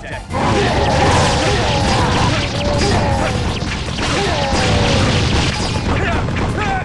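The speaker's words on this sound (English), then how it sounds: "those enemy cannons are impeding our attack" Enemy cannon fire on a battlefield in the PS2 game Samurai Warriors 2, loud repeated booms and crashes blending into a dense, continuous wash of combat noise with shouting voices throughout.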